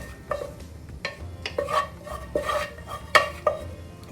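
Gooseberry and lime preserve is spooned out into a bowl, giving a series of soft, wet scraping clinks of utensil against dish at an uneven rhythm.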